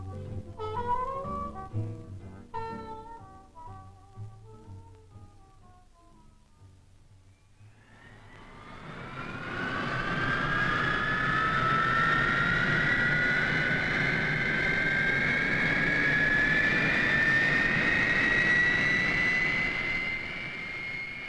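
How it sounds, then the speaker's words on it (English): After a short stretch of music, a Hawker Hunter single-seat jet fighter engine spools up at the 1952 Farnborough Air Show into a rising, whining roar with a climbing high-pitched tone that holds loud and steady. "The Hawker Hunter single-seater interceptor is starting up."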